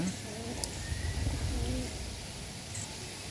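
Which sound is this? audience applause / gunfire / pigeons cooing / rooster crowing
pigeons cooing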